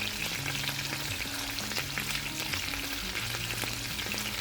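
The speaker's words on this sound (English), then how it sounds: "While frying, if desired, add 1 tablespoon of butter, 1 crushed garlic clove, and 1 sprig of rosemary to the pan" Steak frying in a pan with butter, a crushed garlic clove and a sprig of rosemary, a loud, dense, steady sizzle and spatter that stays close and continuous throughout.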